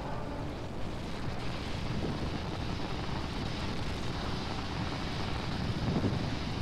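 Merlin rocket engines in Kerbal Space Program throttling down during ascent, a steady broadband roar with low rumble, loud and constant throughout with no voices.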